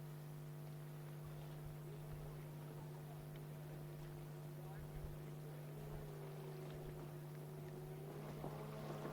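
A distant powerboat engine drones steadily with a faint rising and falling pitch as the throttle is feathered through a corner, under light wind noise.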